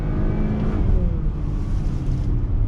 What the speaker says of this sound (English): Let's get on throttle. On throttle, drops down, and we are off and running.